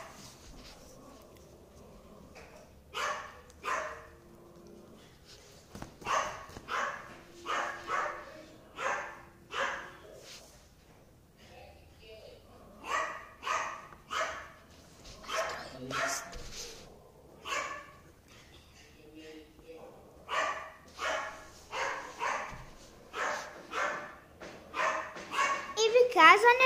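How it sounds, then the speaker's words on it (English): A Yorkshire terrier barks in repeated bursts of sharp, high yaps, several clusters spread over the stretch with short quiet gaps, fairly close and getting louder toward the end, with voices heard at times. "That's just my dog."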